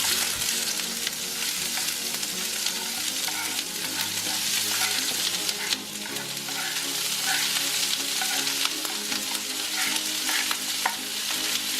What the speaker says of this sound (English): going to throw a little olive oil in to saute my seasoning real quick